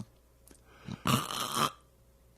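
A person imitates a loud snore as a comedy gag, one rasping half-second snort standing out in a quiet room, preceded by a couple of faint breaths.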